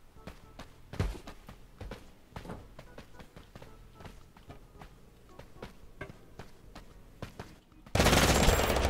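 Rapid gunfire from a Barrett rifle in the Totally Accurate Battlegrounds video game, with many sharp close shots in an irregular burst, followed by a loud sustained noise at the end.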